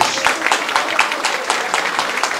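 A crowd applauding, steady dense clapping throughout with no pauses, fairly loud and close.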